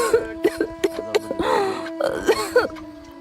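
A woman with tuberculosis coughs repeatedly in short, rough bursts with some throat clearing, over a sustained musical tone.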